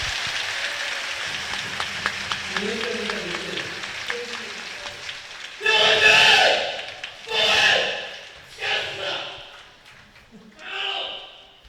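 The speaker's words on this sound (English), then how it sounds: "So please applaud him." Audience at a Buddhist dharma talk breaks into steady, dense applause for several seconds, then it thins as a voice speaks over scattered claps.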